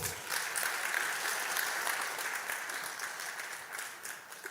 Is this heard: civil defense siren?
no